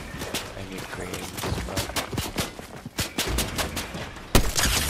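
Rapid gunfire in the Fortnite video game, a busy spray of repeated shots and bursts at mid distance, with a sharp louder blast near the end and faint game noise around it.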